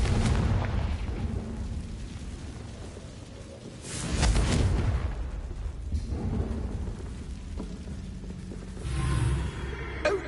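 Fire-spell explosions in the Hogwarts Legacy video game: a deep rumbling blast bursts out around four seconds and another near nine, over a continuous low roar with no talk.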